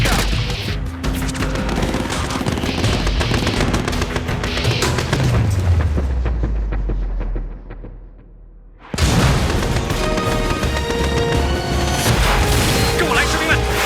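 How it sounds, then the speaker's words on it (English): Artillery and gunfire in the video game Battlefield 2: dense, loud booming volleys with a long falling whistle, a brief drop to quiet, then the barrage slams back in at full strength. "Outpost is being overrun. Artillery firing."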